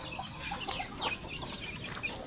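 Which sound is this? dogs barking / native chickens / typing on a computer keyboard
native chickens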